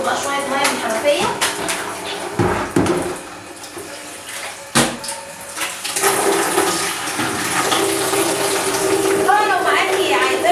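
Tap water gushes into a kitchen sink during cleaning with soap, rushing steadily with clinks of dishes and clatter over it and a voice speaking near the end.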